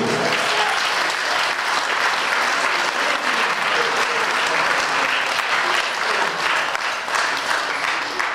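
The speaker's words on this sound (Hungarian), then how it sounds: "Nagy tapsot neki!" Wedding guests applaud the groom at a reception, steady and loud continuous clapping from a crowd lasting several seconds with no talk over it.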